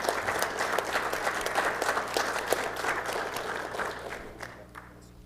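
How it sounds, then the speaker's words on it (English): A room of people applauds municipal clerks at a mayor and council meeting, with steady, dense clapping from a moderate distance that holds for several seconds, then thins and fades near the end. "So one more round of applause for our clerks throughout"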